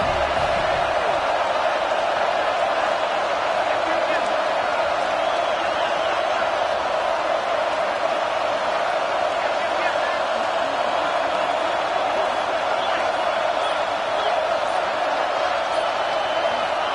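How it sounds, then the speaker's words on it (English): A football stadium crowd makes a steady, sustained roar and murmur as it rallies behind the defense in the red zone. The broad wash of noise holds constant throughout. "And the crowd coming to life here, trying to help this defense down in the red zone."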